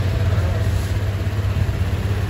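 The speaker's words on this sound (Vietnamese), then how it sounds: "mình cũng lên máy cho các bạn các chị nghe thử" Honda SH scooter engine idling steadily, a smooth continuous low hum with faint higher whine, close by and running alone without any voices for the whole stretch.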